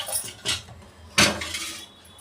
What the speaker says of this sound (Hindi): मैं बर्तन धोऊँगी